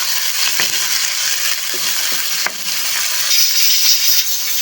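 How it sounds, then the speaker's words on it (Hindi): Garlic-ginger paste sizzles steadily with chicken in a hot pan for a chicken chana daal, a continuous bright hiss broken by a few soft scraping stirs, close and with no voices. "अब हम इसमें लहसुन अदरक का पेस्ट ऐड करेंगे।"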